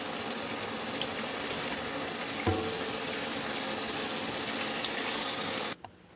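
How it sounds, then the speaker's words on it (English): Dishes are washed by hand at a home kitchen sink, with a steady hiss of running water and a few small clinks before the tap cuts off abruptly near the end. "I'm still washing dishes by hand."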